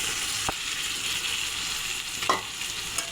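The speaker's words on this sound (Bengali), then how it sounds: "এবার ভেজে রাখা কাঁকরোল আর চিংড়ি মাছ দিয়ে দেব" Fried pointed gourd and prawns hit a pan of cooked spice paste, giving a continuous sizzle broken by two sharp scraping strokes of a spatula, with no talking.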